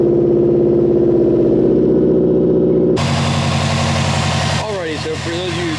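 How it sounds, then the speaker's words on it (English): MAPERFORMANCE Stage 2 tuned 2019 Subaru STI engine on a cold start: steady loud idle rumble, then an abrupt louder burst as the engine catches and roars, settling into a rough, lumpy idle close by. "We're gonna get a cold start going"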